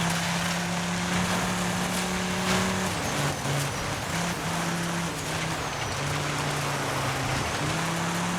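A rally car driving in the DIRT 5 video game, its engine note droning steadily and shifting pitch as it accelerates, backed by a rushing, rain-like hiss of tyres and gravel.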